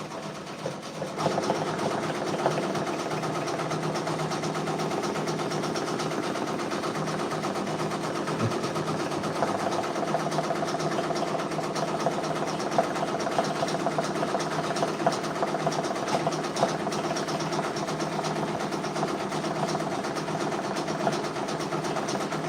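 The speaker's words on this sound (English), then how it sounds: "We're just going to keep on stitching. Keep those machines going." A sewing machine stitching patches drones steadily and close for the whole stretch, a continuous mechanical whir with fine rapid ticking and no voices.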